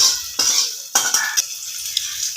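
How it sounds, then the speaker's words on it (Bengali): Lentil dumplings (bori) frying in oil in a kadai, with a steady hiss and a few sharp clinks of a utensil against the pan, close up with no talk. "বড়িটা একটু ভেজে নেবো"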